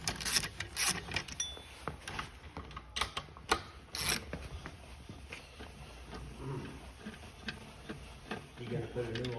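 Ratchet clicking in quick bursts while loosening alternator bolts on a 2014 Ford Fusion 1.5L engine, close up amid scattered clanks and tool handling, with some talk in the background.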